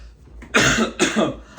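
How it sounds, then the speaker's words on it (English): Two quick, harsh coughs sound close up, followed by a short catch of breath. "I hiccuped, burped, and then coughed."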